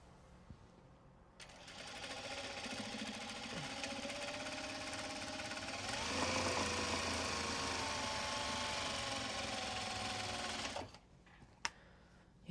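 A sewing machine stitches fabric in a continuous mechanical whir that starts after a quiet moment, grows louder midway as it speeds up, then cuts off abruptly, followed by a couple of small clicks.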